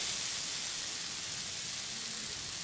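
Raw mango chutney sizzling in a pan as water is poured in, a steady broadband hiss and frying crackle throughout, close and fairly loud with no talking.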